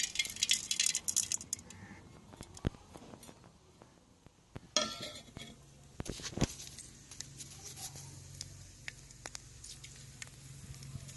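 Sun-dried crushed papad pieces crackle and patter as they are tipped into a pan, with scattered clinks and a quiet outdoor background.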